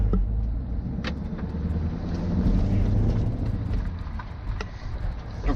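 A 2018 Chevrolet Camaro SS 1LE engine roars steadily with deep low rumble and a throaty exhaust note, exhaust valves fully open, loud and close, with slight swells in revving.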